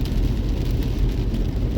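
Steady, dense rain pours in a continuous loud wash with low rumbling from a moving car, no voices.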